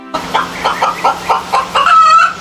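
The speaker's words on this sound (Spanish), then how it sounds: "La gallina cacareó feliz mientras los pollitos correteaban emocionados." A hen clucks in a farmyard in a rapid series of bright, close clucks, about eight bursts in a steady rhythm, ending in a longer drawn-out cackle.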